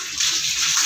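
Water gushes and pours loudly and close, a brief continuous rush with no talk over it.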